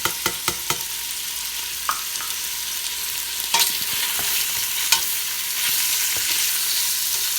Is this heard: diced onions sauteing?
yes